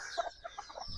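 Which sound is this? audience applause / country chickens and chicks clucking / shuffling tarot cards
country chickens and chicks clucking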